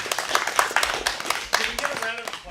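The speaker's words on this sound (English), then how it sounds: "So, round of applause for everyone here." A small group at a strategic planning session gives a short round of scattered, close clapping, with talking heard alongside it.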